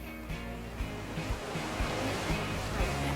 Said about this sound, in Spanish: O el sonido de las olas sobre la playa, que tiene momentos más fuertes y otros más débiles, pero no termina nunca.